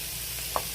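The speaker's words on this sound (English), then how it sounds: "drop my meat in, and I'm just going to brown this" Ground meat browns in a hot pan with a steady, dense sizzle close up, plus a single faint tap near the end.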